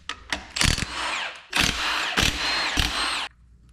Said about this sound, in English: Let's unbolt our bearings.